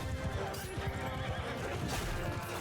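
Horses neigh and gallop in a battle in Mount & Blade II: Bannerlord, whinnies rising over a dense roar of hooves and combat noise, loud and continuous.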